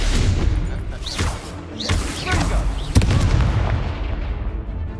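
A Confringo fire spell explodes in Hogwarts Legacy with loud booming blasts and whooshing bursts, one sharp crack near the middle.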